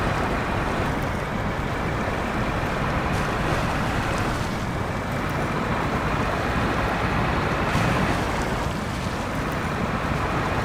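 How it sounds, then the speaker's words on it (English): A wheel loader's bucket shoves through water in the video game SnowRunner, giving a loud, continuous rushing slosh under heavy engine drone. "the bucket does kind of push the water a bit."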